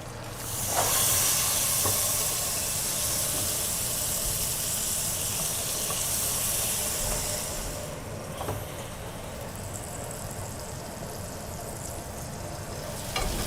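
A butterflied steak fries in a pan with a steady loud hiss and sizzle, easing to a quieter sizzle partway through, with occasional faint clicks and no talking.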